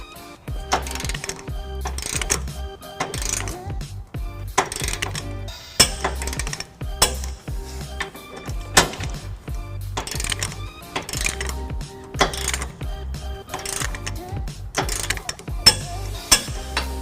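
A torque wrench tightens trailer hitch bolts on a 2013 Nissan Titan, giving a close, steady series of sharp metallic ratcheting clicks at a regular rhythm with no talking.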